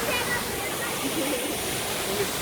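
Jeongbang Waterfall on Jeju pours down in a broad, steady rushing hiss, continuous and fairly loud, with people talking faintly underneath at moments.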